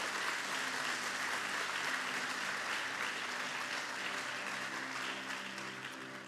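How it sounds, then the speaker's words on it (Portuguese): A church congregation claps loudly together in sustained, dense applause at a Sunday service, steady throughout and slowly fading toward the end, with no voices standing out. "saúde ao Senhor com a salva de palmas mais forte"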